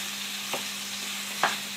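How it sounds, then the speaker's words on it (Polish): Onion and peppers sizzling steadily in a hot pan, with a couple of short scraping stirs breaking through the constant frying hiss. "Trzeba to elegancko przemieszać. Smażymy to kolejne 2 minuty."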